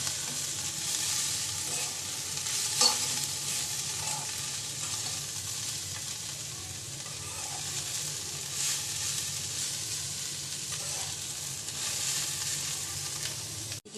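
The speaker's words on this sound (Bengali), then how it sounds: "শাক তেলে দিয়ে দিলাম, চিংড়ি দিয়ে শাক ভাজি করছি" Radish greens frying with shrimp in oil make a long, even hiss of sizzling, with faint stirring clinks now and then and no talking.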